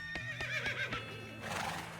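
A horse whinnies in the video game West of Loathing, a loud, shaky, drawn-out neigh with rhythmic pulses, followed by a breathy snort, alone without talk.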